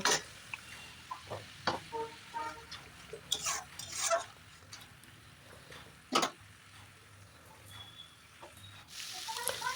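Spice paste with tomato and coriander paste being stirred and fried in a pan for a snakehead fish curry, with scattered scraping clinks of the spoon and soft sizzling, fairly quiet with no talk.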